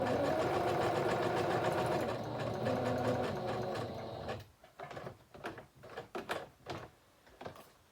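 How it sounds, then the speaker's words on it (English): Sewing machine running a messy stitch around the edges of altered paper envelopes: a steady mechanical whir for about four seconds, then stopping and restarting in short, irregular bursts of stitching, close and clear. "do this around a couple times to do a little messy stitching"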